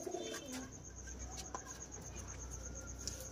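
Pigeons, including a female, coo close by in low, throaty repeated calls over a steady background hum, with no clear talking.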